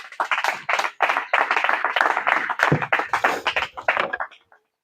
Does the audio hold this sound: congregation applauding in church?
yes